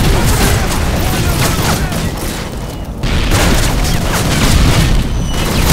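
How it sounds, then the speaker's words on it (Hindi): Grenades explode in Call of Duty: Modern Warfare 3, loud booming blasts layered over constant gunfire and battle noise, with the din dipping once before surging back. "कितना ग्रेनेड फेंक गया, रुक मैं भी ग्रेनेड फेंकूंगा"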